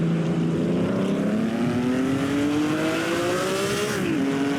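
Onboard engine of Dorino Serafini's Ferrari racing at the 1950 Pau Grand Prix, a loud, steady rasping drone rising in pitch as it accelerates, dropping sharply at a gear change near the end, alone without talk.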